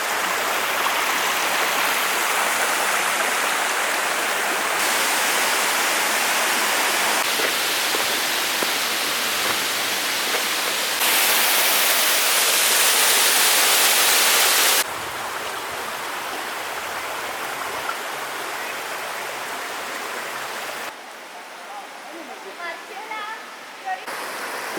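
Waterfall at Pietrele lui Solomon near Brasov, Romania, a steady, loud broadband roar of falling water that holds close and constant, shifting in level between a few abrupt cuts.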